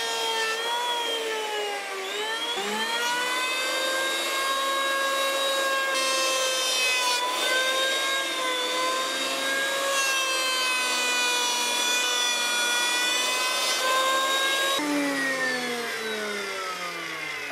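A wooden board is planed flat for a handmade joinery tool box, producing a continuous, close wooden rasping with a sustained whining tone that holds steady for the whole stretch.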